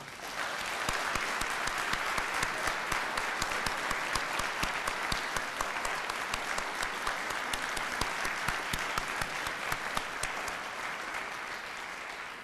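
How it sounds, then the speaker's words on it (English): An audience at an Eagle Scout Court of Honor ceremony gives a long, even round of applause, many hands clapping steadily at a moderate distance with no talk over it. "we want to give you all now a round of applause."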